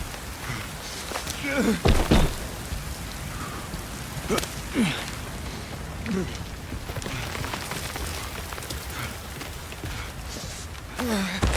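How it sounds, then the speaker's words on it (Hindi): Heavy rain pours steadily in the video game 007 First Light, a constant hiss with scattered louder splashes and bumps, while voices speak over it. "इतनी बारिश हो रही है"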